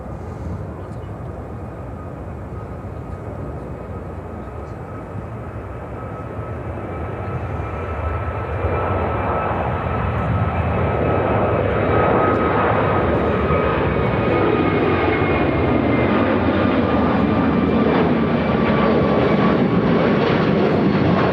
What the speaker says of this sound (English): How about a brand new United A321neo?